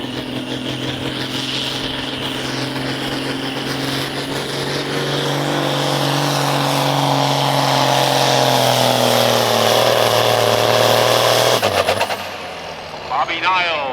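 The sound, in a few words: John Deere farm tractor engine during tractor pull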